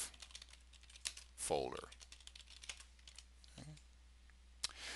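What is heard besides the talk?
typing a task name on a computer keyboard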